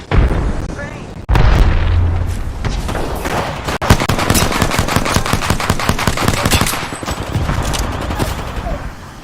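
Dense rapid gunfire rattles through a battle in Apex Legends, with a grenade blast, heavy booms and overlapping shots filling the whole stretch, loud and close.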